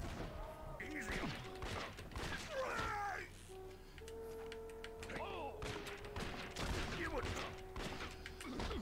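Gunshots in the Western video game Red Dead Redemption, a few scattered sharp bangs and thuds mixed with game music and effects, with someone talking over the action.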